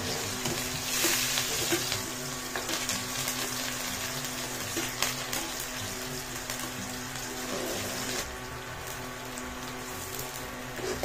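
Mustard seeds crackle and sizzle in hot oil while aloo bonda is being cooked at home: a continuous, rain-like hiss with scattered pops, fairly close and steady throughout.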